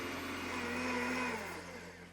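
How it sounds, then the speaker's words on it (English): A kitchen blender whirs steadily while melted butter is drizzled in slowly to emulsify a hollandaise-style sauce for smoked salmon eggs Benedict, a continuous close motor hum that swells slightly and then eases off toward the end. "I'm gonna turn on the blender and drizzle this in slowly"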